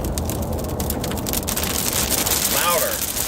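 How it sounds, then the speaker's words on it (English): Rain starting to fall during hurricane field coverage in Florida, a steady dense hiss of drops on surfaces, close and fairly loud, continuous throughout with a faint voice under it. "it's starting to rain as I'm trying to explain something."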